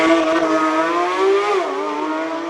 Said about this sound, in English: GT3 RS of Ryan Lowe launches aggressively off the start line